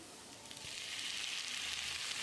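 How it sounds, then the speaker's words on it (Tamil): Steady sizzling of chopped tomatoes sautéing in hot oil in a pan, a continuous close crackle that swells slightly after the first half second. "தக்காளி லேசாக மசிகிற அளவுக்கு வதக்கிடலாம்"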